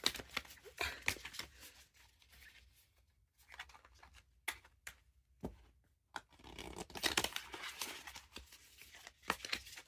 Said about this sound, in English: I'm just gonna do a bigger shuffle